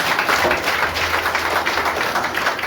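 A church congregation claps together in thanks during a Hindi worship service, a dense, continuous wash of hand claps filling the room for the whole stretch, fairly loud with no clear individual beats.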